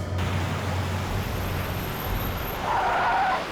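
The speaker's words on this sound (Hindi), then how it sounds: "सर गाड़ी रोकी सर।" A car brakes hard to a stop with a drawn-out tire skid, a steady low rumble giving way to a broad screeching scrape near the end; no one talks.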